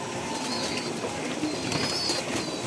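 Pigeons coo repeatedly in a loft with double cages, with soft overlapping calls over a steady noisy background and no talk.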